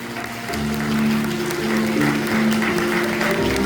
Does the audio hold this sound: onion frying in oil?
no